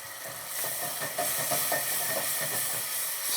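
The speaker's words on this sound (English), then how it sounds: "We're gonna deglaze it all with a little bit of brandy." A pan deglazed with brandy gives off a steady, fairly faint steaming hiss with soft sizzling crackle throughout, close by and uninterrupted by talk.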